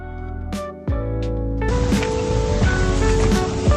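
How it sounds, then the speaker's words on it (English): Rushing water at High Force Waterfall, a broad continuous roar of falling water heard outdoors at steady loudness, mixed with a few sharp bright clicks and rustles from the nearby walker's handling. "This is High Force Waterfall."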